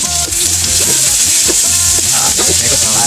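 Garlic and onion sauté in a pan for pork-belly adobo with string beans, a loud steady sizzle with scraping stirs and small pops running throughout.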